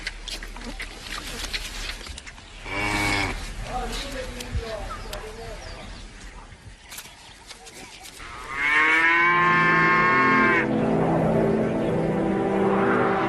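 Buffalo and Jersey cows on a farm moo loudly nearby, with a couple of long lowing calls, while a narrator talks over the herd.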